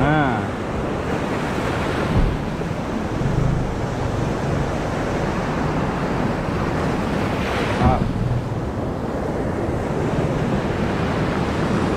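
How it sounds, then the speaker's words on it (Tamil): Sea waves surge and wash steadily at a river mouth, a continuous loud roar of surf mixed with wind buffeting the microphone, with two louder breaking swells standing out. "ரிவர் மவுத்துக்கு வந்துட்டோம்."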